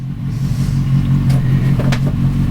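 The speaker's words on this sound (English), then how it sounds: "the thoughtless person who just started up their motorcycle in the driveway" A motorcycle engine idles in a driveway with a steady, deep, droning rumble, close and continuous, with faint higher clicks and rattles above it.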